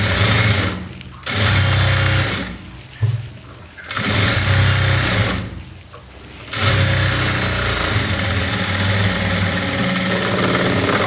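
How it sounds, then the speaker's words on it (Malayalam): A sewing machine runs loud and close in three long stitching runs with brief pauses between, edge stitching the cup of a saree blouse. "അപ്പോൾ അത് നേരെ തിരിച്ചിട്ട് ഒരു എഡ്ജ് തയ്യൽ കൊടുക്കുക."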